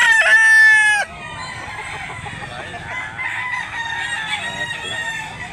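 A gamecock rooster crows loudly and close by for about a second in Cebu, Philippines, then the rest is a softer, busy background of other birds and clucking fowl.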